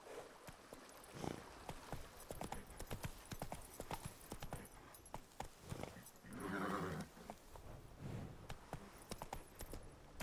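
Hooves of a horse clip-clop in a rhythmic gallop in the video game The Witcher 3, close and steady, with a brief whinny partway through.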